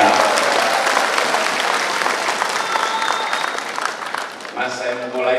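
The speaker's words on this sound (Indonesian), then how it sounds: "Boleh kita beri tepuk tangan untuk semua yang memilih hadir di ruangan ini." An audience at a Democratic Party political dialogue event breaks into loud, dense applause that tapers slightly near the end, where a voice begins speaking over it.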